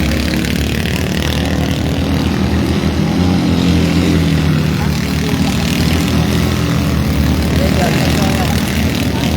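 Race cars arriving at a bend during heats at Allogny 2025: loud, continuous engine roar that swells and shifts in pitch as the cars close in, with voices in the background.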